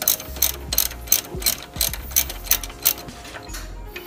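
A ratchet wrench loosens a 14 mm nut on the strut assembly and sway bar of a 2007 Kia Spectra, giving rapid, close pawl clicks in repeated bursts between short pauses.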